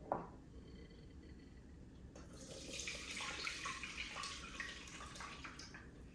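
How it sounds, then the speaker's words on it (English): Violet-infused jelly liquid poured through a sieve into a baking pot gives a faint, steady trickling splash that grows fuller and louder midway, with no talk. "So this is ready for me to pour through the sieve into my baking pot."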